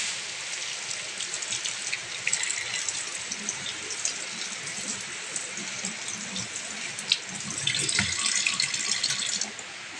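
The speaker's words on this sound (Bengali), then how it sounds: "ধুয়ে তরকারিগুলোকে আগে ভালো মতন ধুয়ে নিই।" Running tap water pouring steadily while vegetables are washed in a sink, a continuous close splashing rush with slight surges of flow.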